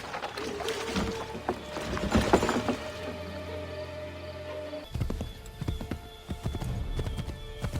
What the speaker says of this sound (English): Quickly, Connor, get on the horse!